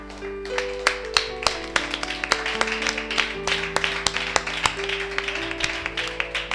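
A church congregation claps steadily and rhythmically in praise, sharp hand claps close and loud over sustained organ or keyboard chords.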